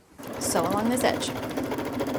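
A sewing machine runs steadily for about two seconds, stitching along the edge of a multi-zipper pouch panel layered with a zipper and lining. A faint voice is heard under the motor's whir.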